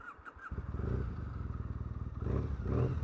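A warmed-up Triumph Brooklands Bonneville café racer motorcycle idles close by after a few short beeps, its twin engine giving a lumpy, rapid pulsing putter with small surges and a slight rise near the end, and no one talks.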